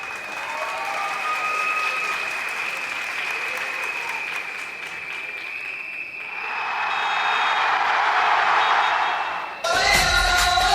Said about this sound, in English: Parents, please clap for your children